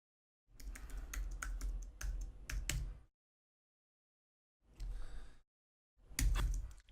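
Keystrokes on a computer keyboard while entering a git clone command in a terminal: two clear bursts of rapid clicking, the first around two and a half seconds long, then a short pause and two shorter spurts, the last ending on a firmer key press.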